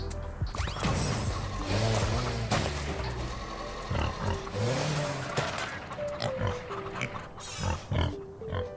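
Pigs grunting and oinking in the farming video game Farm Together, a string of repeated snorts and squeals up close, mixed with clattering and other game noises.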